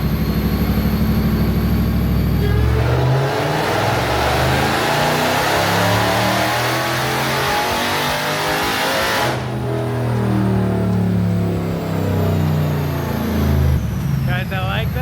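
A Dodge Hellcat V8 with a Formula Z exhaust and open valves revs hard and loud, rising sharply after a low idle, holding a roaring high-rev blare, then dropping back briefly before surging again, close to the microphone.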